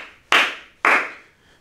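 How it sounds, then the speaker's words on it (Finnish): Two slow, sharp hand claps, spaced about half a second apart, loud and close with a short decay after each and nothing else around them. "Kuuluu hidasta taputusta."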